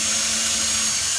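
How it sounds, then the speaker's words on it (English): Power drill with a 1/8 inch bit boring a pilot hole for a Hafele Symo lock installation, a steady whining run held at even loudness throughout, close and alone. "we're using an 1/8 inch drill bit"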